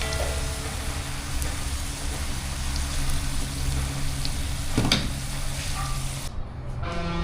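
Cut carrots and other vegetables fry slowly in oil, giving a steady, dense sizzle and hiss with a low background hum and no talking.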